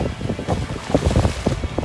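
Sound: wind on Orient Beach, St. Martin

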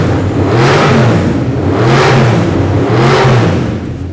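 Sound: Formula Thunder 5000 race car, Coyote Ford Mustang engine revving

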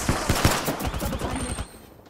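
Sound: gunfire in a video game

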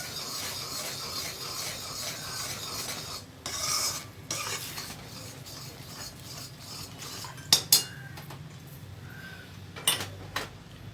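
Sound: stirring Mysore pak mixture in a pan

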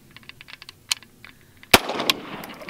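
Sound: gunshot fired at Vietnam war body armor

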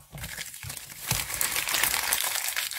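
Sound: crinkling paper wrapping

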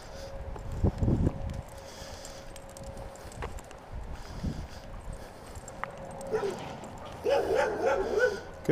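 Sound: dogs barking excitedly

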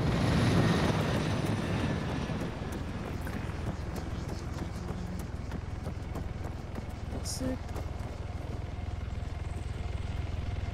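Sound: tac chopper helicopter in ARMA 3, from a video game

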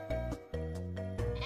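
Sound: sheep weapon bleating in Worms video game

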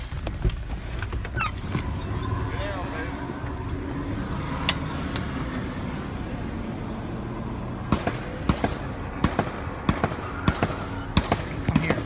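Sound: gunshots during a police shootout

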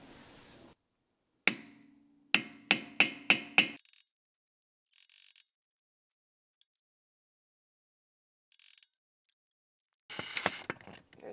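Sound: hammering a screwdriver into stuck rotor screw

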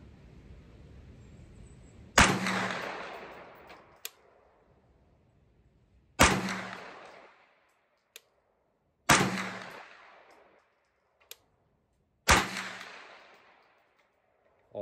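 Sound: Anderson AM9 9mm pistol-caliber carbine shots at 200 yards

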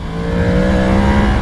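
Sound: Yamaha MT-10 2022 motorcycle accelerating

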